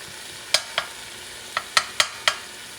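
A spoon stirs beef heart frying in a pan, giving six crisp, separate scrapes and clacks spaced unevenly over a few seconds against a faint, low sizzle, with no voices.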